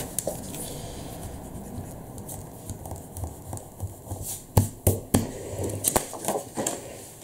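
A large eraser rubbing across paper, soft scratchy friction strokes that stay steady and fairly faint, then grow into louder scrubbing passes toward the end.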